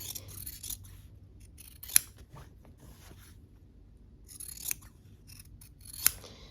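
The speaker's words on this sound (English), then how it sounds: "we're gonna just trim these apart with my scissors" A few distinct snips of scissors slicing through quilting fabric, close by, separated by quiet pauses with faint rustling in between.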